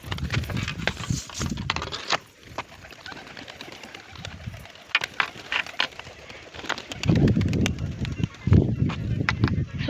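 A flock of pigeons taking off, with wing flaps and fluttering bursts mixed with cooing, moderately close, and a louder flurry near the end.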